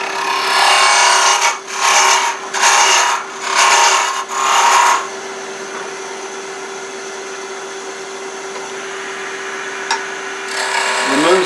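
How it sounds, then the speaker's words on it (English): A spindle roughing gouge cuts a wooden bird beak spinning on a lathe, giving four rough, scraping bursts of about a second each over the motor's steady hum, then a quieter stretch with one more short cut at the end. "with a spindle roughing gouge."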